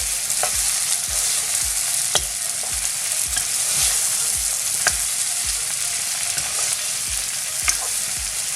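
Couscous being mixed into cooked vegetables in a pan: a rhythmic run of spatula scrapes and taps, roughly two per second, over a soft steady sizzle, close and without speech.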